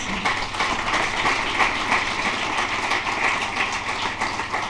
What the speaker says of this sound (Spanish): Les pediría un aplauso para nuestros intervinientes